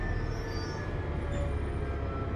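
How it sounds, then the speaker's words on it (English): A 1995-stock London Underground Northern Line train runs between Hendon Central and Hampstead, heard from inside the carriage as a loud, continuous low rumble with faint high wheel squeals. "This is a Northern Line train via Bank terminating at Morden"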